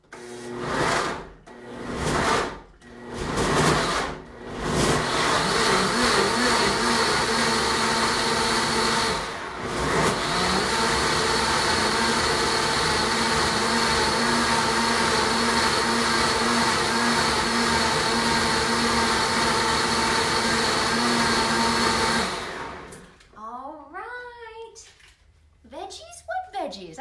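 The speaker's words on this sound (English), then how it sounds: "So I'm gonna put this over here on our Blendtec, and I'm gonna just pulse it a few times until it's all nice and creamy" A Blendtec blender pulsing dairy-free creamy chicken soup: several short loud bursts at first, then a long steady whirring run that cuts off, followed by a person talking.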